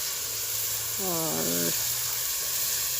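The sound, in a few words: sizzling tadka in a cooking pot (handi) with onions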